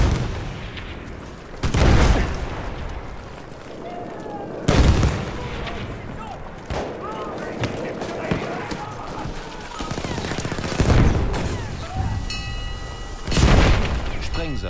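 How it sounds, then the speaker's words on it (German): Grenade blasts and gunfire in Battlefield 1 multiplayer Rush mode boom out as several heavy, sharp explosions spaced a few seconds apart, each with a rumbling tail, amid scattered shots while a player talks throughout. "Vorsicht, Schutz, ich werfe eine Granate!"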